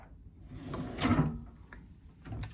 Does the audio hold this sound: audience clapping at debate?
no